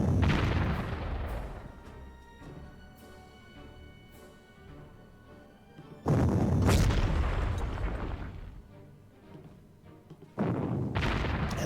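Artillery fires in the wargame Panzer Corps: three heavy, booming shots spaced several seconds apart, each trailing off into a long rumbling decay, with no voices.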